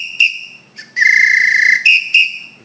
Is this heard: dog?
no